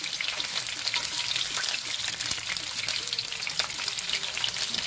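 Shrimp that were washed, peeled, cleaned and patted dry frying in hot oil for squid-ink black rice, a steady dense crackle and hiss that holds evenly throughout, close and with no talking.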